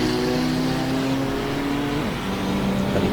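Racing engine of a 2007 Chevrolet Colorado pickup in a driving game, holding a loud, steady high-revving drone in fourth gear with a brief pitch drop near the end, alone without voices.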